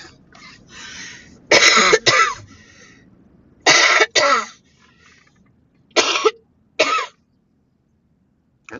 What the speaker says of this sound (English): stop that coughing